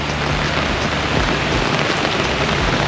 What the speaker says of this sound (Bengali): আর দেখতে পাচ্ছেন প্রচণ্ড বৃষ্টি, সেই কাল রাত থেকে বৃষ্টি